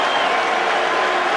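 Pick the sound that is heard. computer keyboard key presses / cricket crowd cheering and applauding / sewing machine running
cricket crowd cheering and applauding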